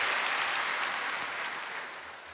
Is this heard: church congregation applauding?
yes